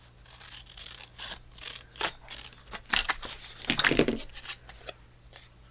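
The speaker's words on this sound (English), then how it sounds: "I'm going to cut it right along this line" Scissors cut paper along a line for a journal tag, a series of close, crisp snips at an uneven pace, with a louder, longer rustling cut near the end.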